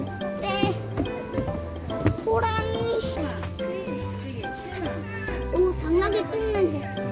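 A cat meows repeatedly, rising and falling cries mixed with people talking nearby.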